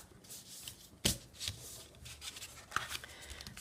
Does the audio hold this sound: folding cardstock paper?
yes